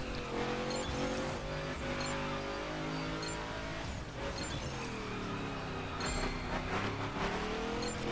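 A car engine drones and shifts pitch steadily while driving in The Crew around Miami Harbor, a continuous close motor tone rising and falling with throttle.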